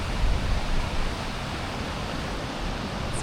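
Rushing water of Numa Falls, a waterfall in the Canadian Rockies, heard as a steady broadband roar that stays constant throughout with no voices over it.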